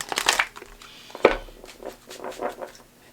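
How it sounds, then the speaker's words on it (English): Tarot cards being shuffled by hand, a few short papery riffles and crinkly bursts, close and fairly quiet with gaps between them. "while I'm shuffling the cards"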